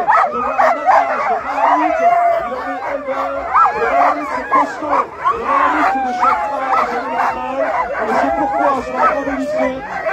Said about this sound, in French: c'est un plaisir de voir un attelage de Malamutes